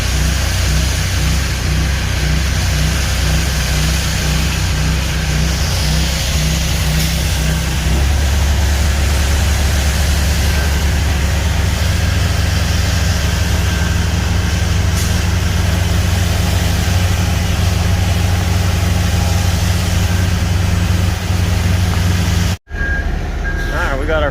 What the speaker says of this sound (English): They're starting to pump it out right now, so they've got it running down the tube down through here.